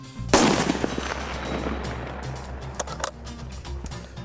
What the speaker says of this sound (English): Take a solid position and fire when ready.